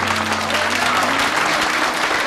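An audience claps in steady, dense applause at a live stage show introducing a knife thrower, the loud crackle of many hands holding evenly throughout.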